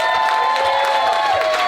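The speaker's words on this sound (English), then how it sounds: "so can we give him a massive round of applause?" Wedding guests applaud and cheer together in a continuous, dense burst of crowd noise that holds steady and loud throughout, with cheering voices mixed into the clapping.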